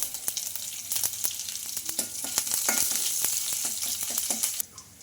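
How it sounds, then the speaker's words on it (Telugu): Cumin and mustard seeds frying in hot tempering oil, a busy close crackle of rapid pops and spits that thickens midway and then cuts off sharply near the end, with no talking. "అలాగే కొంచెం జీలకర్ర ఆవాలు కూడా వేసుకోవాలి ఇందులోకి ఇంకా కాస్త ఫ్రై అయిన తర్వాత"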